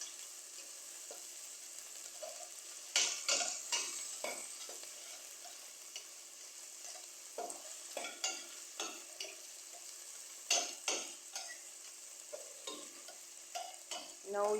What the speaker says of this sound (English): Turn the stove on medium heat. And just allow this to saute in the oil.